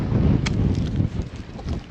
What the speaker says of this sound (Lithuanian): Vėjas žiaurus pakilo